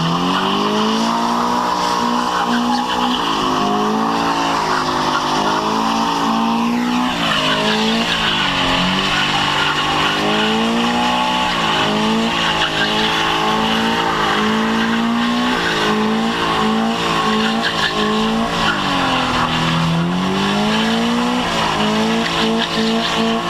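A car races hard, its engine revving up and down in long sweeping pitch changes while tires squeal through slides, loud and continuous throughout with no talking.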